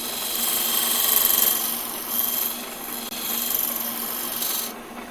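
Wood turning on a lathe as a tool cuts an internal bevel, a steady high rasping scrape that runs almost continuously with slight dips and ends in a softer tail.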